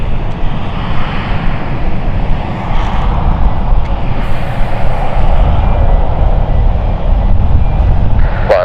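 Dornier 328 aircraft at London City Airport, a loud, steady engine roar and broad rushing whine that holds throughout with no pause, close by.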